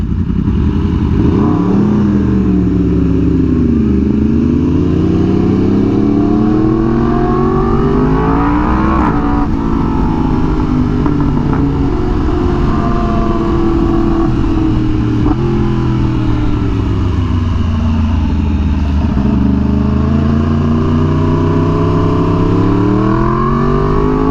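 A Yamaha R1M sportbike engine revs repeatedly and loudly up close, a deep, raspy exhaust note rising and falling in long sweeps for over twenty seconds with no talking.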